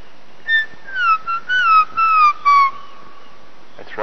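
A person whistles an imitation of a black-crowned tchagra's call: a clear descending whistled phrase broken into several short slurred notes, fairly close and alone, ending with a brief rustle.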